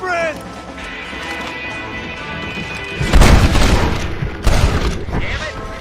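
Gunfire in Red Dead Redemption, a tense in-game shootout with heavy booming shots around the middle and near the end, mixed with a shouting voice and background game sound.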